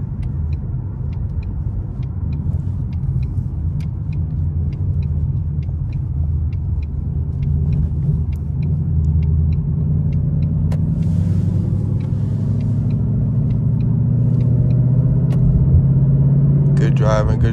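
A Ford Mustang GT cruises along a highway, with a steady, loud low engine drone and road rumble that swell slightly near the end.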